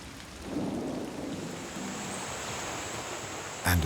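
Rain pours down steadily in a rainforest beside a river, a dense, even hiss of drops with a low rumble beneath, close and constant, ending with a brief louder burst.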